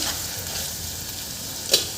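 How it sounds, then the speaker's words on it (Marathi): Pea pulao mixture with coriander being fried and stirred in a pan, a soft continuous sizzle with one sharp scrape of the spoon near the end, close and without talking. "हे परत एकदा आपल्याला असं मिक्स करून घ्यायचं आहे"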